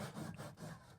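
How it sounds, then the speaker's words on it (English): A hand saw cutting during a bathroom sink replacement, giving one close, continuous rasping stroke of about a second. "What a handy saw."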